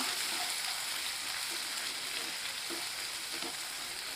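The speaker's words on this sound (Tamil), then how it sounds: "ரெண்டையும் சேர்த்துருவோம் இதை நல்லா வதக்கிடலாம்" Chopped onions sauté in hot oil in a pan, giving a continuous soft sizzle with a few faint stirring taps, close but quiet, no talking.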